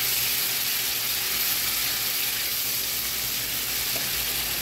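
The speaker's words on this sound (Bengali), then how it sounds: "মশলা এবং টমেটো পেস্টটা ভালো করে কষিয়ে নিব" Spices and tomato paste frying in a pan for palak paneer, giving a loud, continuous dense sizzle that holds steady throughout with no talking.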